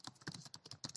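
Fast typing on a computer keyboard, close and quiet, as a series of crisp key clicks in an uneven rhythm over about a second.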